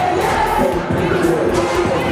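A dense, loud crowd of KUNA dancers shouts and cheers at a school dance, a steady roaring wall of voices with thumping music underneath and no break.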